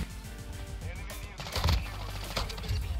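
Shotgun blasts in Call of Duty Modern Warfare 2 multiplayer, several booming game shots over a busy, loud mix of in-game noise, close and dense.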